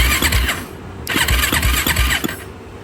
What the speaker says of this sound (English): let's see what happens whenever I hit the start button